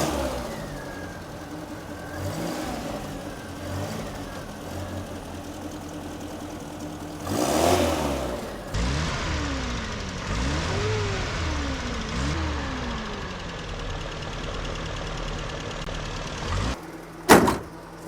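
A military Land Rover's engine runs on full choke, a steady mid-pitched idle with the revs rising and falling in repeated swells, then a brief louder burst near the end. Nobody speaks.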